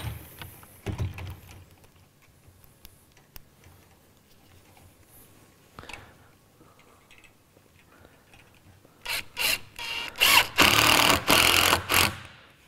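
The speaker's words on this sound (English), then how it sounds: "these rattle guns are a bit noisy" Impact wrench (rattle gun) firing a series of loud, close hammering bursts near the end, after quieter handling clicks and knocks at an outdoor build site.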